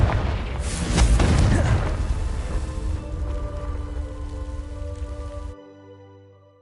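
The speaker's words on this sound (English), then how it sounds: "These dry vines are one spark away from becoming kindling. Confringo!" A Confringo fire spell from Hogwarts Legacy bursts with a loud whooshing blast that crackles and burns through dry vines. The roar fades into a softer rushing hiss, then cuts off, leaving low ambient game music.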